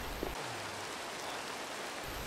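Steady rain falling in the block game Minecraft, a continuous soft hiss of drops spread evenly across the whole stretch with no voices.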